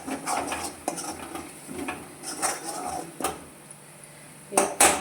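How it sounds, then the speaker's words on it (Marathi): Spoon scraping and stirring spice masala roasting in oil in a pan, soft sizzling underneath, irregular metallic knocks, a couple louder clanks near the end. "ते मसाल्याला थोडंसं असं तेल सुटेपर्यंत आपण छान असं भाजून घेऊया."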